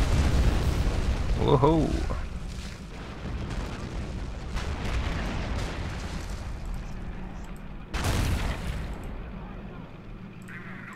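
Howitzer artillery in the video game Men of War: Assault Squad booms twice, heavy and rumbling, with one blast early and another later, while a player's voice exclaims.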